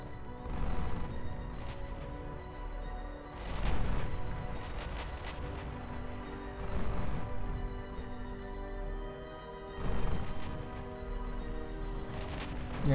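Naval guns in a Shipyard Champions battle open fire on the Seejäger, heavy booming salvos landing in about four spaced bursts over a constant low rumble of battle.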